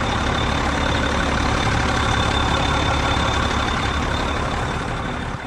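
A steady, heavy Case IH Magnum 7220 Pro tractor engine drones continuously at close range, a dense low rumble with a faint high whine on top and no voices.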